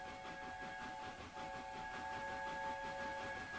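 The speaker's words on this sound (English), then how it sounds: "Blow the whistle twice, please. Yep, we'll blow the whistle twice." Mallard steam locomotive whistle in Train Simulator, a steady multi-tone chime held across the whole stretch with only a slight dip partway, over a soft hiss of steam and rolling train ambience, no talking.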